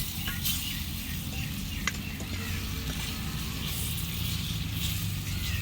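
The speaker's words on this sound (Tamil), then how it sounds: "கறியை வந்து திருப்பி போடணும்" Chicken gravy bubbling and sizzling in a pot over a wood-fired stove in a village kitchen, with a steady frying hiss and light stirring scrapes, close and continuous, with no talking.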